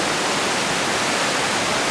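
Broad, steady roar of a waterfall in Iceland, loud and continuous with no other sounds.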